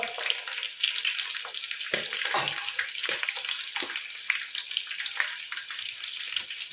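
Green chillies frying in hot oil in a home kitchen, a continuous close sizzle and crackle with small stirring clatters and no voices.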